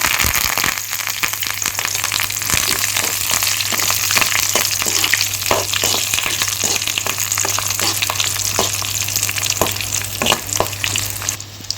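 Crushed garlic and curry leaves temper in hot oil, giving a loud, dense crackling sizzle with sharp pops and spits scattered across the whole stretch, close to the pan.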